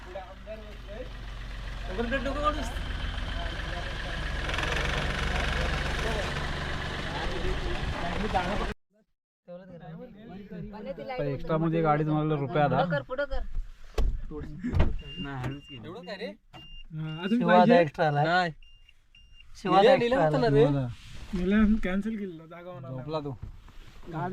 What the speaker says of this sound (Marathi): आमची गाडी आता आली